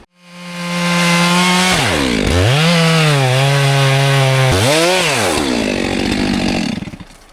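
Chainsaw cuts into a downed log about 4.5 feet long while clearing a seldom-used frozen road, engine loud and close, dipping in pitch twice as the chain bites into the wood, then easing off at the end.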